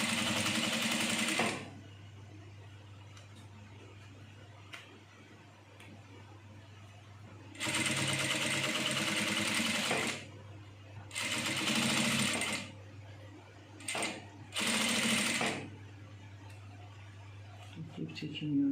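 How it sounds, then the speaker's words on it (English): A sewing machine stitches an over-bust corset in several bursts of steady, close, loud whirring and needle clatter, with short pauses between runs and quiet stretches in between. "So you are sewing to the edge of the bone."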